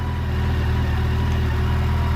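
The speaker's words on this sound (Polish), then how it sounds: "Pracuje jako tako ale pracuje. Zaworki słychać troszkę klepą." Yamaha FJR1300 motorcycle engine idling steadily at close range, a low continuous rumble with a light, even ticking from tapping valves running throughout.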